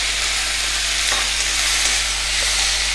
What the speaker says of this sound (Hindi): टमाटर ऐड करने के बाद अब मैं इसके अंदर डाल रही हूँ मटर